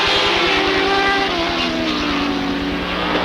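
Race cars roar together at Rockford Speedway coming out of turn four on a green flag, a dense, loud, continuous engine drone with rising pitch and no clear talk.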